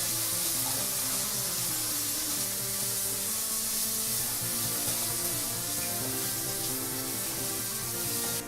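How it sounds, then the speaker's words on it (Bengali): Raw banana peels frying in a pan with browned garlic and spices: a steady, dense sizzle and hiss that runs unbroken throughout at a moderate level, with faint background tones underneath and no talking. "কলার ছিলকাগুলো মশলাটার সঙ্গে নিয়ে ভালো করে আমরা একটু ভেজে দেবো।"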